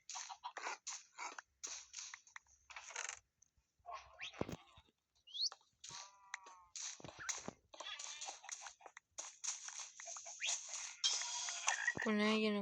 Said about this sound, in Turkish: Yine kurbağa çıktı.